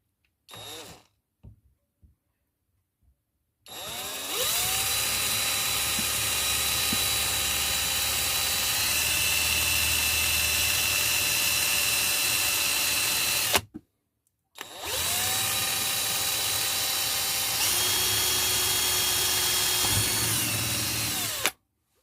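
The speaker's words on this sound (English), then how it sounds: "Mark it out and drill it" A power drill bores a hole through a metal bracket in a workshop, running in two long sustained whining bursts separated by a short pause, with a few small clicks before it starts.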